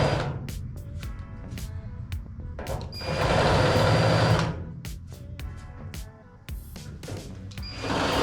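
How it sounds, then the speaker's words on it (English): A reamer tool runs into threaded holes on the firewall of a 1949 Jeep Willys pickup during restoration. It gives a steady whirring mechanical buzz with a sustained louder stretch in the middle, broken by short clicks and taps. "reamer tool that we're gonna run in these tops and just kind of clean up what we got going on here"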